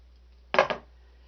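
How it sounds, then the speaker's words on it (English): Two quick, close metallic snips from scissors trimming loose sewing threads off stitched fabric, the second right after the first, in a quiet room. "we are going to trim off all the threads"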